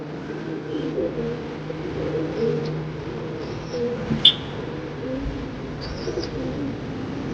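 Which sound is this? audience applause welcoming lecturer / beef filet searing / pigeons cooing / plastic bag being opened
pigeons cooing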